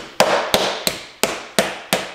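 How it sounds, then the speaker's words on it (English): Meat pounded on a cutting board padded with trivets and a dishcloth, sealed in a Ziploc bag: six sharp, evenly spaced thumps about a third of a second apart, close and loud, each with a short decaying ring. "this is the sound of pounding meat with trivets, a dishcloth, a cutting board, and a Ziploc bag"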